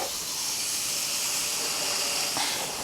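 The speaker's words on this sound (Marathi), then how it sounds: "आता ह्याच कढईत मी परत खवा भाजून घेणार आहे" Khoa roasting in a kadhai, giving a steady, even hiss throughout with no talk over it.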